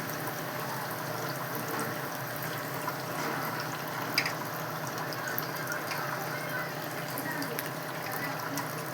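Leafy greens being washed by hand in water, a steady close splashing and trickling with a few sharper splashes.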